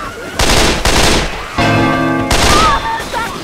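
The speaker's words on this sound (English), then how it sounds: "Can we not shoot each other?" Gunfire in Left 4 Dead 2 scavenge mode at Parish Park: loud bursts of rapid shots in close succession, with players talking between and over the shooting.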